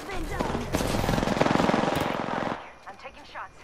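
Rapid automatic gunfire in a shooter video game, loud sustained bursts for about two and a half seconds, then quieter scattered sounds as the firing stops.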